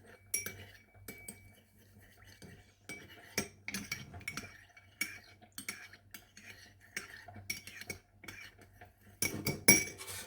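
Metal utensils clink and scrape against a bowl while a fresh salad is mixed, giving irregular close taps and knocks at a low level, with a louder cluster of clinks near the end.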